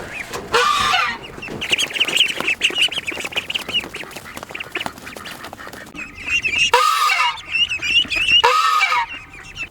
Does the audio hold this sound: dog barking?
no